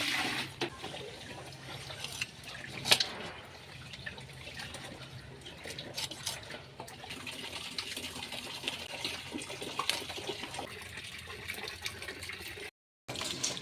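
Raw chicken pieces are rinsed under running water while a Kolkata-style chicken biryani is prepared, giving a constant close splashing gush with a few brief sharper clatters and no talk.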